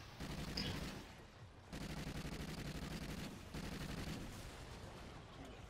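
A co-op squad in Call of Duty: Ghosts Extinction fires rapid, sustained guns at hunter creatures. The dense bursts come in three long stretches with short dips between them, heard at a moderate distance.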